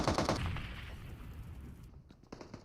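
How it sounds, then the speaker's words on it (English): Bursts of automatic gunfire trade back and forth in a PUBG Mobile esports match, dense rapid shots up front that thin into scattered distant pops, fairly quiet overall. "So much gunfire going back and forth here."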